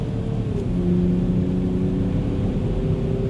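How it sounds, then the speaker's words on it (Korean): A Land Rover Defender accelerates at full throttle on an opened-up road, its engine note rising into a steady, loud, low drone heard from inside the cabin, with no talk. "자 이제 길이 뚫렸으니까 풀악셀입니다."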